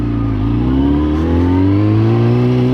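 A Toyota Supra sports car passes close by, its engine note rising steadily in pitch as it accelerates, loud and continuous with no talking.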